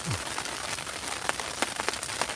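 Rain patters steadily on surfaces during a fishing outing, a soft continuous hiss broken by a few sharper drop taps, fairly faint.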